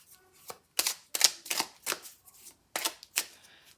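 Tarot cards handled and laid down over a spread, a series of sharp papery slaps and slides in irregular bursts, close and fairly quiet, with no talking.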